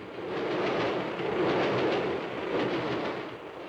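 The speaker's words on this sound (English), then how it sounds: "The pounding of the train wheels on the soundtrack increases our tension," A steady, heavy rumble of train wheels rolling along the track fills a 1935 Hitchcock thriller soundtrack, swelling and easing gently in loudness with a muffled rhythmic beat, no voices present.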